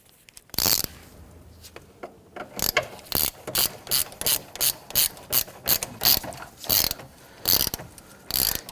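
A hand ratchet tightens the battery hold-down bar on a Kia Sorento, giving a run of quick, close, evenly paced clicking strokes without talk.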